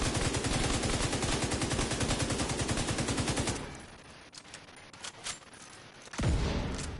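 Rapid automatic gunfire in the video game The Division 2, a loud dense burst of evenly spaced shots for several seconds, then quieter scattered pops and another loud hit near the end.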